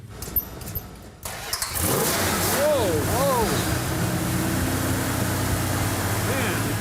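A 1968 Dodge Charger R/T V8 cranks and catches, then settles into a loud, rumbling idle with a couple of blips of revving, close by, with people talking briefly before it starts.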